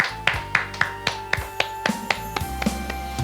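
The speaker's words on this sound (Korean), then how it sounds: "우리 하나님께 영광의 박수 올리겠습니다" Congregation clapping in steady rhythm during a church's Friday worship service, about a dozen crisp claps over sustained keyboard or organ tones, with no talking.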